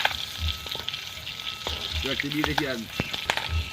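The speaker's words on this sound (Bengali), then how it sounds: "ভেজে নিচ্ছি কই মাছ" Koi fish frying in hot oil with a continuous crackling sizzle, close up, with a few faint clinks and stirring sounds.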